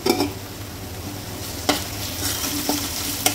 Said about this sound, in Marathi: कांदा फ्राय होत आला आहे, आता मिरचीची पेस्ट घालूया।